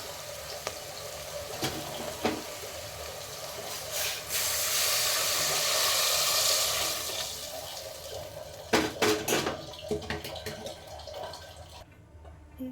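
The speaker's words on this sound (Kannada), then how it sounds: "ಈಗ ನೋಡಿ ಫ್ರೆಂಡ್ಸ್, ನೀರು ಹಾಕ್ತೀನಿ" Water pours steadily into a pot with a rushing, splashing sound, followed by a few clinks and splashes as the flow stops.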